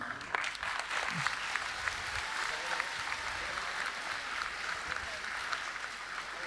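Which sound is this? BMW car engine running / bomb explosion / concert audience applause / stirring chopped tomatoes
concert audience applause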